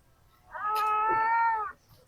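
A single drawn-out cat meow, clear and moderately close, rising then trailing off against a quiet background.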